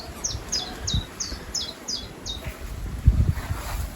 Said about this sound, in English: I'm pretty sure that's a chiff-chaff.